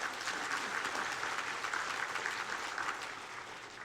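Warm, steady applause fills a church worship service as the congregation welcomes a visiting missionary family serving in Vietnam. The clapping is moderately soft, dense and even, with no talking over it.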